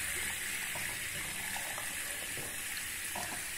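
Water runs steadily from a tap while hair is being wetted for washing, a continuous close hiss and splash with faint irregular spattering and no talk.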